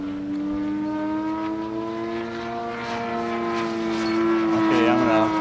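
A 200 carburetor engine on a propeller aircraft holds a steady half throttle in flight, a sustained droning hum with a strong even tone that swells slightly louder near the end, with voices talking over it.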